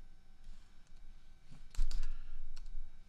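Computer keyboard keys click in a quick, irregular run of light taps under a steady background hum during a music stream, growing a bit louder midway.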